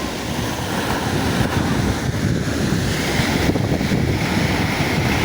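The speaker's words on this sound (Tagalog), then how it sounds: "sobra sa isang metro mga idol yung taas ng alon mga idol dito sa tabi ng Matnog" Large sea waves over a metre high near Matnog wash and rumble continuously as a dense broadband surf roar, mixed with steady wind buffeting the microphone and no talking.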